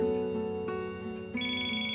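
A telephone ringtone plays indoors, a steady electronic melody of repeating tones that shifts to a higher pattern near the end, moderately loud with no talking.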